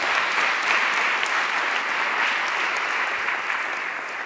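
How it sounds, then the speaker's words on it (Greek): A church congregation gives sustained, dense applause that stays loud and even throughout, with many hands clapping together and no voices standing out. "Ας του δώσουμε ένα καλό χειροκρότημα."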